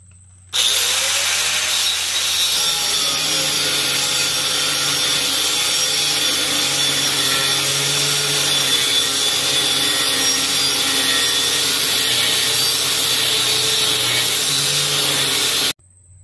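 Power saw cutting a wooden piece to length while building a homemade implement mover, a steady loud drone running about fifteen seconds without pause.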